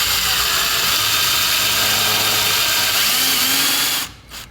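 Power drill driving screws into a kayak mount, a loud, close, continuous whirring drone that stops abruptly near the end.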